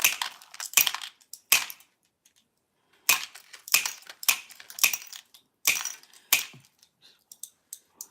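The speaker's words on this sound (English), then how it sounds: "This is the glass nibbler" A hand glass nibbler bites off small pieces of glass for fusing, sharp crisp snaps and crunches arriving in irregular clusters with quiet gaps, close up and alone.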